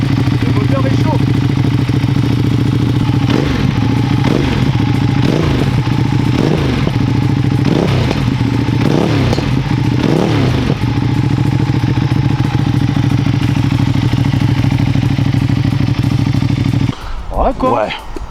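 A warm 2024 Ducati Streetfighter V2 twin-cylinder motorcycle idles loudly up close with a steady low throb, broken by a series of sharp throttle blips and revs before the engine cuts out near the end.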